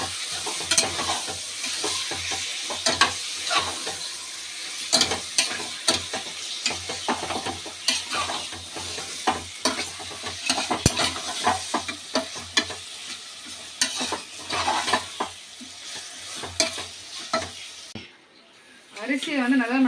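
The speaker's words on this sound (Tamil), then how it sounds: "இப்போ நம்ம எறா சேர்த்துக்கலாம்" Prawns stirred and frying in a pan for a biryani, a steady close sizzle with repeated scraping stir strokes throughout, ending briefly quieter before resuming; a voice speaks in places.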